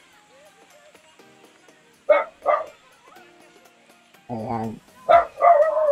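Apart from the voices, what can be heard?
dog barking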